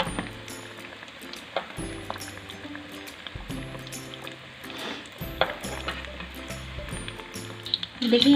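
Rice balls (arancini) fry in hot oil with a soft, continuous sizzle, broken by clicks and light scraping of a utensil as they are turned. Someone speaks quietly at moments over the frying.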